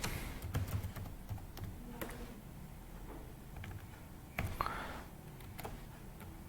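Typing on a computer keyboard while writing CSS code, with scattered clicks and short bursts of keystrokes, close and fairly quiet, over a steady room hum.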